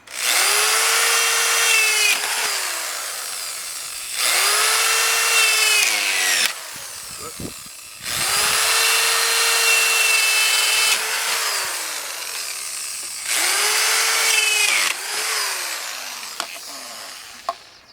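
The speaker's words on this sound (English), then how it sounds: "So that is a 1/2 inch drill bit right there" Power drill with a half-inch bit whines through wood in three long bursts, high and steady, with short quiet gaps and clatter between them.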